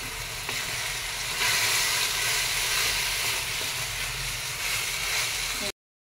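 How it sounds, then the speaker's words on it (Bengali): A paste of onion, ginger and garlic sizzles steadily in a hot pan as it is stirred, giving a continuous loud frying hiss that runs for several seconds and then stops. "এবার ওই বাটাটা দিয়ে একটু ভালো করে নেড়ে নিতে হবে।"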